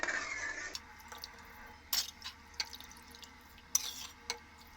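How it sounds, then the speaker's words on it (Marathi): Soaked rice is tipped into water in a pot for veg biryani, making a brief splashy pour followed by scattered drips and light clinks of a spoon against the vessel, close and quiet. "हा जो भिजवलेला तांदूळ आहे तो आपल्याला या पाण्यामध्ये घालून घ्यायचा आहे."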